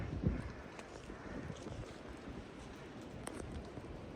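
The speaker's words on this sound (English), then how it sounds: "Sounds like the wind has picked up considerably up high" Strong wind blowing high on a snowy mountain, a steady broadband rush with gusty swells and buffeting, fairly loud and continuous with no voices.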